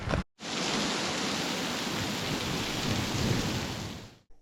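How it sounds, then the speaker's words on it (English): Heavy rain in Namibia roars down in a dense, steady hiss after a brief pause at the start, loud and continuous with no voices. "It is pouring down rain."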